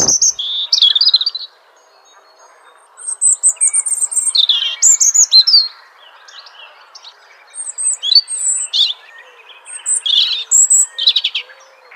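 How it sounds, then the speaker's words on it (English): Bright, high chirps and tweets from a bird come in busy bursts separated by short lulls across twelve seconds, loud and near, with no one speaking. "Bird."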